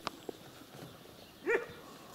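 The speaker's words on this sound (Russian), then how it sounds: "На коров лает. Немецкая овчарка хорошая." A German shepherd barks at cows outdoors in a village, a few short distant barks heard faintly, spaced apart, with one louder bark near the end.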